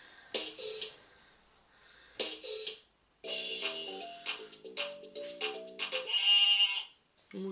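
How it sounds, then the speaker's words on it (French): Sheep bleats from a children's toy drum that makes animal sounds, with electronic bleats and short tonal jingles in bursts and pauses, fairly close, with no talking over them. "Mouton."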